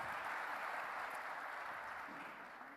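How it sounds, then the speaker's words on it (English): Steady applause from the audience after a panel at a cybersecurity forum, a continuous, even wash of clapping at low overall level that eases off slightly at the end. "Big round of applause"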